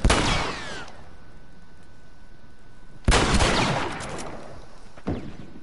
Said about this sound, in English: Who the fuck is shooting me with the damn sniper?